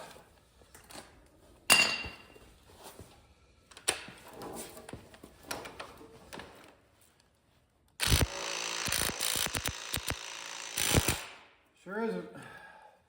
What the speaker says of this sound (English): Let's try with an impact. See if the Ryobi's strong enough.